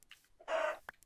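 A single Minecraft chicken clucking, a short, quiet, nasal cluck with a few faint clicks around it in an otherwise quiet game scene.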